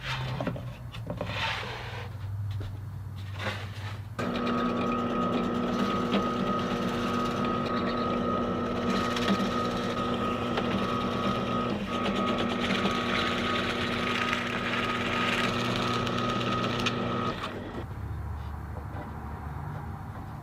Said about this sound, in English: I can use the drill press to drill a very shallow hole in this piece